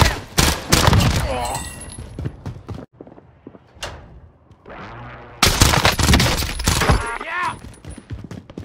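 Call of Duty Warzone gunfire comes in dense, loud bursts of rapid shots with a quieter gap in the middle, while players talk over the action.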